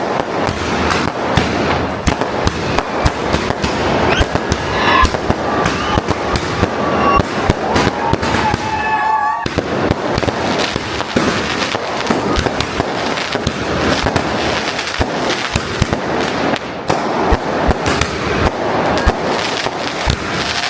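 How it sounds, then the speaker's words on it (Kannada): Firecrackers are burst outside a home in a long, dense string of sharp, loud cracks and pops, rapid and irregular throughout, with no voices. "ಸೊ ಪಟಾಕಿ ಹೊಡಿತಾರೆ"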